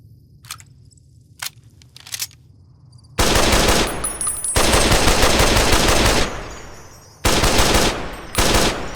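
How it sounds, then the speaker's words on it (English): A Browning Automatic Rifle fires in Fallout: New Vegas, loud sustained automatic bursts at a steady rapid rate. Several long strings of fire are separated by short pauses and follow a few scattered single shots. "it's a funky looking BAR with a very BAR rate of fire"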